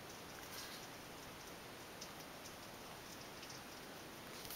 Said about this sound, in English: If you hear like pitter patter in the background, that is actually the rain.